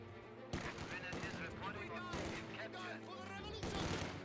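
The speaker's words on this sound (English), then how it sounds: "But we got the Wehrmacht sniper firing away." A Wehrmacht sniper rifle fires repeatedly during a Company of Heroes 2 battle, its sharp cracks mixed with other gunfire and clatter, heard under a caster's commentary throughout.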